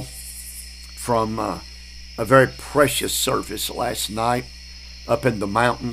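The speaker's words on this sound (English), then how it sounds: "You might hear the crickets already in the background." Crickets chirp at night near a creek by a porch in the North Georgia mountains, a steady high trill in the background beneath someone speaking.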